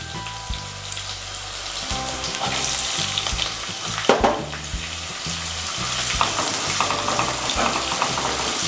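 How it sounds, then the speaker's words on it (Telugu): Onion pieces with ginger-garlic paste and spices frying in a pan for a ridge gourd and moong dal curry, a loud, continuous sizzle with a sharp stirring clatter near the middle. "ఇవన్నీ బాగా ఫ్రై చేసుకోవాలి"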